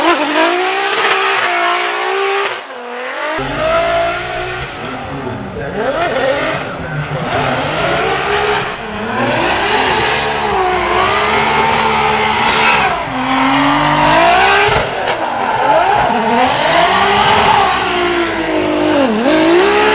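A race car runs a practice lap, its engine rising and falling through repeated revs and shifts, loud and close throughout after a brief quiet start, with occasional tire squeal.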